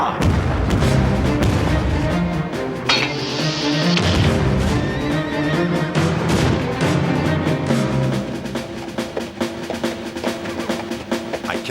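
Artillery fire booms through a battle scene in an animated film, heavy dense rumbling blasts layered with music throughout, with no voices heard.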